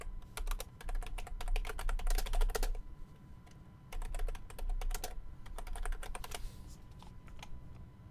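Fast typing on a computer keyboard in close bursts of rapid clicks, separated by short pauses, with no talking.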